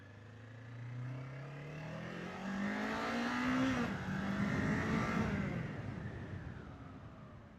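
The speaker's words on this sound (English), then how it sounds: "taking a quick jaunt, revving it out." A 2025 Kawasaki Ninja 500 motorcycle revving out on the road, its engine note climbing steadily through the gears, peaking, then dropping and building again, loud and close with wind noise around it.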